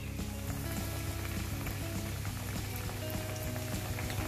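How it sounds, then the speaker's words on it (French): Steady, moderately quiet sizzling of food pan-frying, a continuous crackle and spatter like light rain with no voices over it. "Ensuite, on va venir les poêler."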